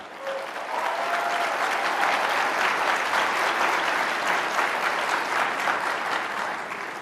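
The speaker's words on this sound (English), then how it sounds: "Josh Hawley gets a standing ovation after reminding the crowd that he voted not to certify the election results on January 6th" Standing ovation from a CPAC conference crowd for Josh Hawley, sustained loud applause with cheering filling the whole stretch, steady and dense from start to finish.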